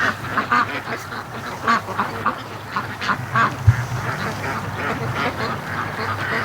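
Free-range ducks quack at a lake in the morning, scattered calls repeating over steady outdoor background noise, moderately near with no talking.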